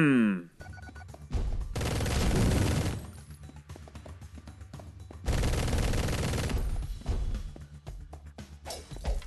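Bursts of gunfire fill the game Mr. Shifty: two dense, loud stretches of rapid shots with crashing, shattering debris. Brief, sparser impacts sit between them.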